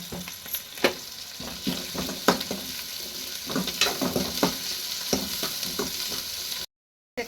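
Onions and tomatoes, salted, fry in a pan with a steady sizzle broken by repeated scraping stir strokes, close and fairly quiet, ending in a brief silence.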